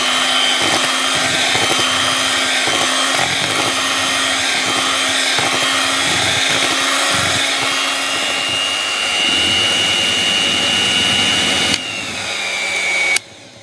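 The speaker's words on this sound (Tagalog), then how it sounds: "gagamitin ko po itong electric beater para siguradong mag-combine lahat yung mga ingredients" An electric beater whirs steadily as it combines leche puto batter ingredients, a continuous motor drone that shifts pitch partway through and cuts off near the end.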